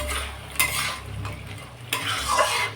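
Fish pieces stir-fried in a pan with coriander leaves, spatula scraping and clinking against the metal over a steady sizzle, close and busy with intermittent louder scrapes.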